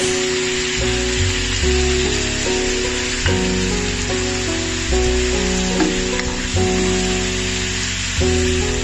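Pork cubes hit a hot pan and sizzle in a steady, loud frying hiss. Music plays underneath.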